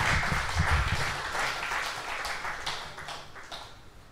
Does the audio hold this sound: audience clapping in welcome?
yes